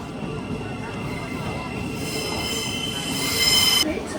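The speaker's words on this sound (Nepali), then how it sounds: "हाम्रो क्याम्ब्रिज जाने ट्रेन आइसक्यो यही ट्रेन हो" A train bound for Cambridge, UK, rolls into a station with a steady rumble, and a shrill wheel squeal rises near the end before cutting off.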